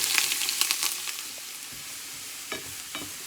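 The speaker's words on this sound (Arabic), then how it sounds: "غادي نشحرها شويه البصيله ديالي هي بدات كتشحر" Chopped onion frying in a pan for a savoury Turkish-style stuffed brioche, a steady close hiss of sizzling with a few light stirring scrapes, no voices.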